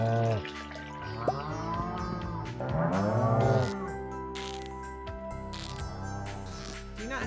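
Cows moo in the farming video game Stardew Valley. Several drawn-out, wavering moos overlap one after another, moderately loud and close, over a quiet background.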